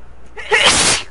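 A single sharp sneeze bursts out loud and close after a quiet moment, rising quickly and trailing off within about half a second.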